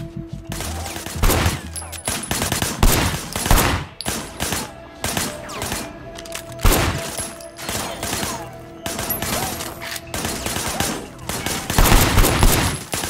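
Gunfire in the video game Sleeping Dogs during a police shooting exercise: bursts of loud, sharp shots, some in rapid strings and some spaced a second or two apart, ringing close and alone without speech.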